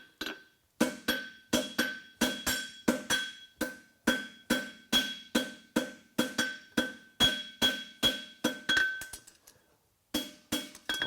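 A farrier hammers a horseshoe over the edge of an anvil, close and clear, with more than twenty sharp ringing metallic strikes in a steady rhythm, one short pause, then a few more blows.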